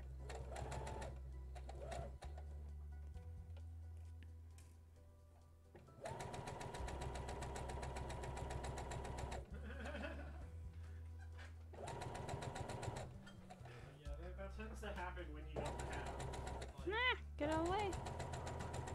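A sewing machine stitches a Rapunzel dress in a steady, whirring run, stopping and starting in bursts close to the microphone, with a voice heard over parts of it.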